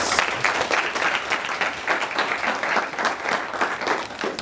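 An audience at a Duke University talk applauds, a dense, steady patter of many hands clapping at moderate loudness for the whole stretch, without speech.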